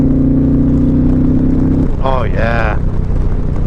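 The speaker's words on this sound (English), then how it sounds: "Once you hit it, oh my lord, this bike wakes up completely and just starts to pull like mad." A 2021 Indian Challenger Limited motorcycle engine idles with a steady low drone, then revs sharply twice in quick rising bursts, close and loud, with someone speaking briefly.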